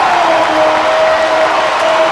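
Dense, steady roar of a basketball arena crowd cheering and applauding after a made three-pointer, loud and sustained with no breaks, a high whistle-like tone held above the noise.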